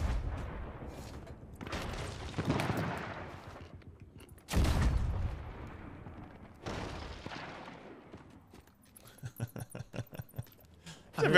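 Ship cannons fire during a Sea of Thieves battle, several deep booming blasts landing in bursts amid crashing debris and splashes, followed by a rapid rattling flurry of smaller impacts near the end.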